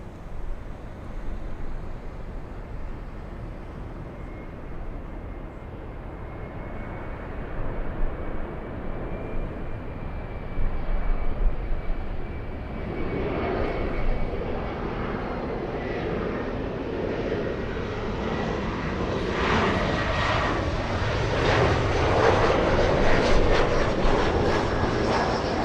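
An Airbus A350-1000 bound for Heathrow takes off at LAX, its engine roar swelling steadily from a distant rumble to a loud, broad sustained thrust that keeps building toward the end.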